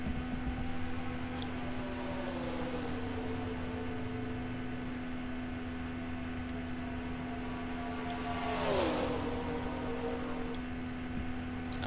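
Race cars in the MG Cup Series run at speed at Atlanta Motor Speedway, a steady whining engine drone with one car sweeping loudly past, its pitch dropping as it goes by.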